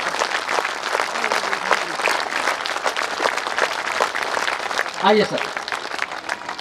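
A large audience at a gathering keeps up loud, continuous applause for the chief guest, with dense, steady clapping throughout. Someone briefly speaks over it near the end.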